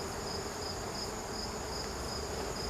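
A steady, faint hum of honeybees swarming outside and around their hive during an inspection, a continuous insect drone with no voices.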